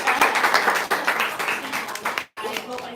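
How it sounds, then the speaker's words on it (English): Listeners at a live talk on Jewish mysticism clap in a dense, close patter with voices mixed in, breaking off briefly near the end before resuming. "I think we should give her a round of applause."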